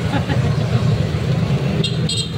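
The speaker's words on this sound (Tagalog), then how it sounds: "Parang iba yung busina ni Manong ah" A vehicle horn sounds twice in quick succession over the steady rumble of road traffic and engine noise, close by and fairly loud near the end.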